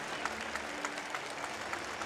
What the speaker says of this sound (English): Yes, a big applause for his art.